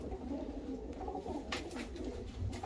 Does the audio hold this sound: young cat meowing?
no